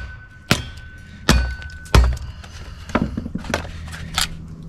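A sledgehammer strikes a Kindling Cracker XL splitting firewood: four or five sharp, loud thuds with cracking wood, spaced about a second apart, with faint outdoor background between blows.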